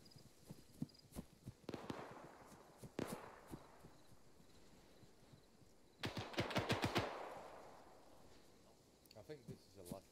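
Gunfire during a night-ops training exercise in a video game rings out as short bursts of sharp, rapid shots, with a dense volley in the middle, heard faintly at a distance alongside occasional quiet talk.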